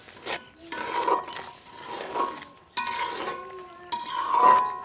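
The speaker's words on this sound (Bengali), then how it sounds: "এবার এই সবগুলো ভালোভাবে কষিয়ে নেব" Spices and salt being stir-fried in a pan for a country-chicken curry, with a spoon repeatedly scraping and stirring in bursts and a steady sizzle underneath, close and fairly loud, no talking.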